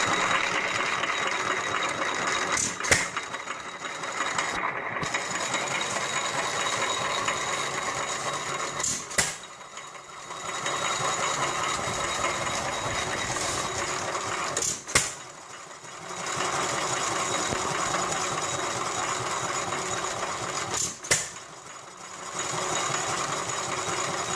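A vintage Fairbanks-Morse Z 2-horsepower stationary engine: a steady mechanical running noise holds throughout, with a few sharp clicks and brief dips where the running pauses or changes, loud and close.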